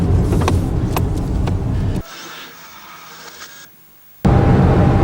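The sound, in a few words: car driving and turning without power steering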